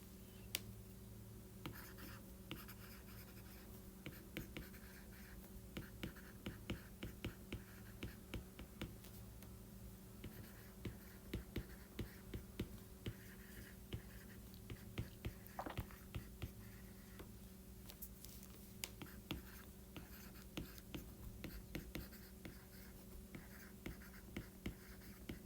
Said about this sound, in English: So let's pause and write that down.